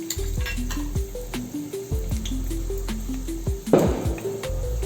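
Hot oil sizzles steadily with cumin while something is stirred, with a burst of louder crackling near the end as dry red chilies go into the pan; a faint musical tone runs underneath.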